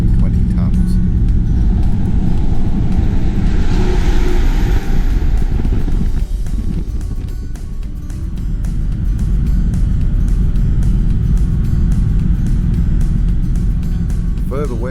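A heavy road train hauling three fuel trailers roars past close by, a loud sustained engine and tyre rumble that swells and eases over fifteen seconds, with wind buffeting throughout.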